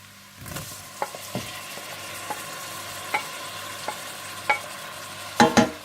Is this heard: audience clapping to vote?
no